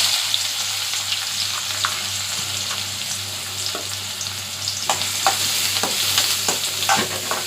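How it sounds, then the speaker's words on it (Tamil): Four chopped onions sizzle steadily as they fry in a hot pan with cardamom, with a spoon scraping and stirring through them in repeated short strokes, close and continuous throughout. "வெங்காயம் ஒரு 4 பல்லாரி வெட்டி வச்சுருக்கேன் பொடிசாக, அதையும் போட்டுக்கிறேன்"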